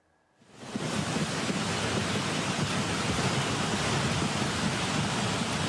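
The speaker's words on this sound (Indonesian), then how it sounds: "Arus air yang membesar terlihat menghanyutkan potongan kayu dan batu-batu berukuran besar." A swollen flash flood current fed by heavy rain surges in a steady loud roar of rushing water, carrying wood and large stones. It starts abruptly and continues unbroken, with no talking.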